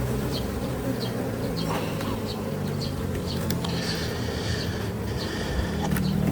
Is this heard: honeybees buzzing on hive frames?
yes